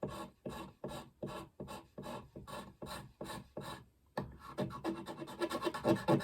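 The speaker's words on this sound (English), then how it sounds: "There's a lot of scraping, and so I don't want to have to torture you with the scraping noise." Hand scraping of a surface before sealer goes on, heard up close and alone: about ten steady rasping strokes in an even rhythm, then a short pause and a faster, denser run of scraping.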